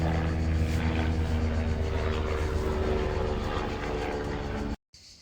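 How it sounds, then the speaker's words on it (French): Airplane flying overhead outdoors, a loud steady engine drone with droning harmonic hum that holds for several seconds before cutting off abruptly. "Waouh, il y a un avion."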